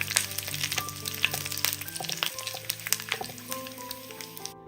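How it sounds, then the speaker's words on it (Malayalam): Dried red chillies, halved, frying with onions over a medium flame and stirred, a close crackling sizzle with sharp pops and spatula scrapes, no voices. "2 വറ്റൽ മുളക് 2ആയിട്ട് മുറിച്ചതും കൂടി ഇട്ട് കൊടുക്കുക. ഒന്ന് ഇളക്കി കൊടുക്കുക."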